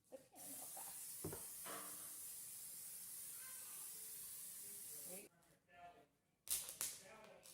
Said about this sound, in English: now I'm going to spray the pan real fast.